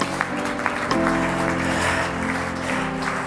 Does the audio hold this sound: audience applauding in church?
yes